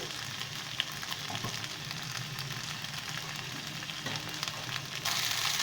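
Masala paste of ginger, green chilli, salt and dry chilli powder sautéing in oil for rohu fish head curry, giving a continuous dense sizzle at an even level that grows slightly brighter near the end, with no talking.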